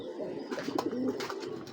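A pair of Sapchila pigeons give a short run of low, throaty coos, close and fairly clear over faint background noise.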